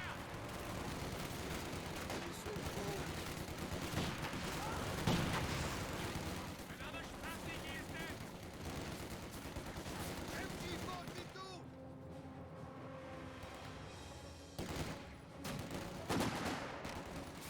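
Battle in Company of Heroes 2 with gunfire and mortar fire: a continuous busy mix of rattling shots and heavier booms at moderate level, with a commentator talking over it.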